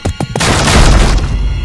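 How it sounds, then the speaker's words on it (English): A person slamming into a door, staged as a sound effect in an animated scary story: a few sharp thuds open into a loud, booming crash that rings on and slowly fades. "displaying zero emotion on his face as he slammed into my door."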